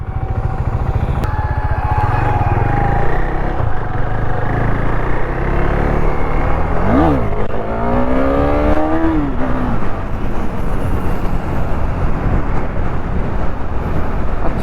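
A KTM Duke 390 motorcycle engine revs loudly and steadily up close, with rising pitch sweeps as it climbs for a wheelie attempt on a roadside stretch past a petrol pump.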